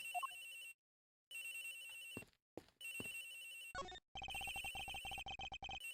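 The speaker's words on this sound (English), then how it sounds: "The ringing is coming from somewhere in here," A telephone rings in the video game Ace Attorney Investigations, repeating in several bursts with short silent gaps between them, clear and alone with no talk over it.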